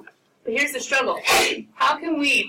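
A single sharp sneeze bursts out in a classroom during a precalculus lesson, landing in the middle of a teacher's speech as people keep talking around it.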